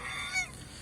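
Geese on a small farm giving a short, loud honk, a single brassy call lasting under a second with little else around it.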